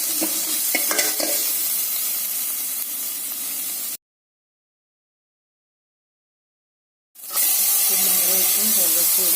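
Onions and beetroot frying together for a beetroot thoran and being stirred: close, continuous sizzling with scraping strokes, cut off by a few seconds of silence before the frying sound returns, louder.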